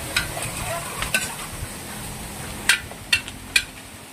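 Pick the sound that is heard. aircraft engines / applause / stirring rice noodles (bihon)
stirring rice noodles (bihon)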